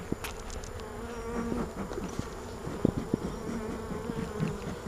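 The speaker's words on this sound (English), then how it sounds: "Got these nurse bees." Honey bees buzz steadily after their hive frame is bumped during an inspection, a dense close hum of many insects with occasional sharper passes and small knocks.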